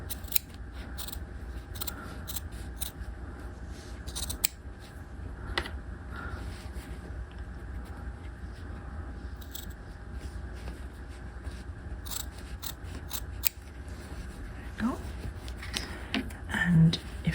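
Scissors snip steadily through the trimmed seam allowance of a half-scale jacket's facing and upper collar, a run of crisp close cuts over a constant room hiss, with a person talking in places.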